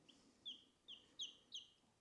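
A baby chick, one of several newly arrived sexed hens on a homestead, chirps four short, high peeps in a quick, evenly spaced series. The peeps are faint and close in an otherwise quiet room.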